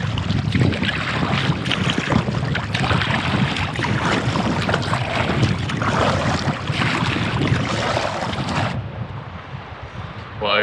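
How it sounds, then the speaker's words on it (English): A kayak paddled on clear sea water near a rocky shore gives rhythmic splashes and water swishes under a constant rush of wind noise, close to the microphone, with a quieter stretch near the end. "I'm going to paddle back to the rocky point"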